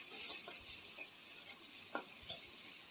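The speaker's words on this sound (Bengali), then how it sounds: "মশলাটা একসাথে ভাজা করে নেব ভালো করে।" Onion, garlic and dried chili paste fry together in a pan, giving a steady soft sizzle with a few faint stirring scrapes close by.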